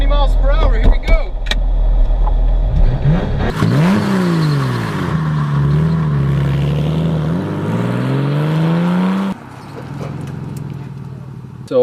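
A Porsche 911 accelerates for a brake test, the engine note climbing and falling through the gears in a loud, close sweep before cutting off abruptly, with a person speaking briefly at the start.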